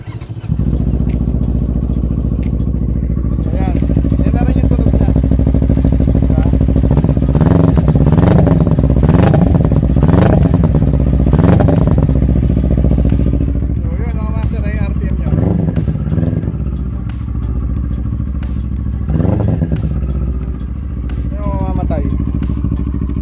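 A motorcycle engine rumbles at idle with a few sharp revs and clattering mechanical knocks, heard under ongoing talk from people nearby; the bike is either a CFMOTO 400NK or an FKM Falcon X400.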